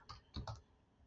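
A few quick keystrokes on a computer keyboard, close and faint, three or four clicks in a short burst then quiet.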